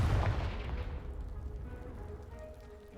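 A Confringo blasting spell explodes in the Hogwarts Legacy video game, a deep booming blast at the start that rumbles and decays over a few seconds.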